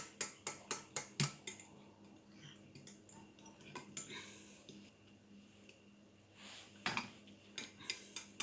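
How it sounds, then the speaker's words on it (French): Homemade moisturizing shower cream is stirred in a bowl, with a run of sharp, close utensil clinks and scrapes against the bowl in quick rhythm, a quieter pause midway, then more clicking toward the end. "Là, on remue"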